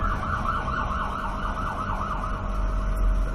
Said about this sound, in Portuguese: deixa eu esperar passar essa ambulância aqui